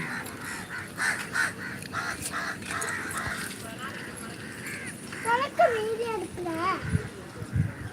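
Crows caw several times, fairly close, over a biscuit put out for them, with children's voices and talking mixed throughout and a few louder calls near the end.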